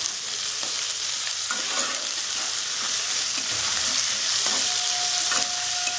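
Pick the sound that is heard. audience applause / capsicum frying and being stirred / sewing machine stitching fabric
capsicum frying and being stirred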